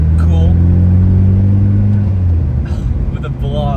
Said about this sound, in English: With the blow-off valve noise